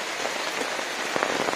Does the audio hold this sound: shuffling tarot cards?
no